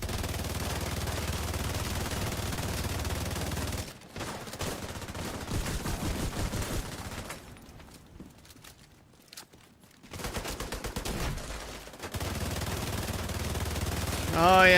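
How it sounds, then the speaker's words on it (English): A gun fires in The Division 2 in long, dense automatic bursts, near and loud. The firing drops out briefly partway through, goes quiet, then resumes. "I forgot how this gun feels to shoot."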